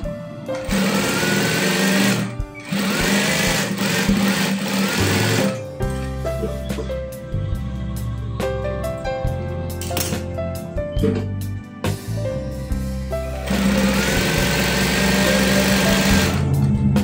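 A sewing machine stitches a double-welt pocket on children's trousers, running loud and close in long steady bursts broken by brief pauses and a slower, changing stretch midway.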